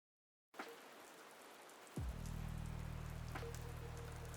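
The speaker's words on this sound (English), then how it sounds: "The rain in West Yorkshire doesn't fall, it hangs." Steady light rain patters in a soft hiss in West Yorkshire after a moment of silence, then a low engine-like hum joins in underneath and holds.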